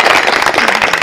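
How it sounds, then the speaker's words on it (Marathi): An audience at a kirtan breaks into loud, dense applause, a short continuous burst of many hands clapping close by, filling the whole moment without talk. "एकदा त्यांच्यासाठी टाळ्या वाजवा"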